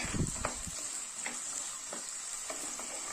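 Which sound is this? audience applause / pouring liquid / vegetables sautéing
vegetables sautéing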